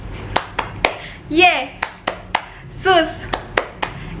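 Children at a church Sunday school service doing a rhythmic clap routine, sharp single claps spaced in a steady pattern, broken twice by brief chanted or sung voices between the claps.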